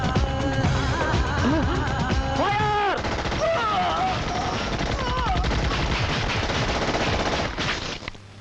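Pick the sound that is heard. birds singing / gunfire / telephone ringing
gunfire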